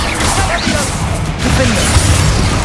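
A Bombarda spell blast in Hogwarts Legacy, a dense, loud crashing whoosh of magical combat noise with whistling swirls, continuous through the short moment under a spoken voice.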